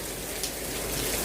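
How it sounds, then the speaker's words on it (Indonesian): Steady rain falls through morning fog at a villa in Cisarua, a continuous close, even hiss of drops with no voices. "hujan yang turun"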